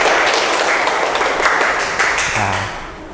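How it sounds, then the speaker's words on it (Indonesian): Classroom clapping as a group of students is called forward to receive a prize, a loud burst of hand claps that fades toward the end. "Ya, tepuk tangan."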